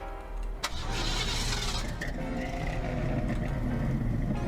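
A classic car engine in a Roblox game cranks and catches with a sharp start, then settles into a steady, rumbling idle close by.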